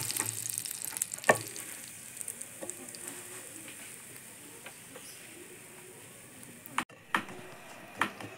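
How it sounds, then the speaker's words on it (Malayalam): Slices of bread toast in melted butter in a hot pan, giving a steady, soft sizzle with a few sharp clicks and taps from the utensil against the pan. "അതിലേക്ക് അടുത്ത 2 സ്ലൈസും കൂടി നമുക്ക് ടോസ്റ്റ് ചെയ്തെടുക്കാം"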